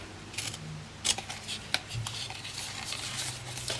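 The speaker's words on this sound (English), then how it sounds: "just the corners of each of these flaps, we want to cut those off as well" Scissors snip the corners off the flaps of a handmade card Christmas tree treat box, a few quick, close, fairly quiet cuts and rustles of cardstock in a quiet room.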